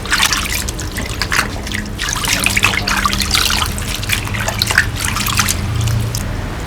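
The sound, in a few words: water running while washing pickled mustard greens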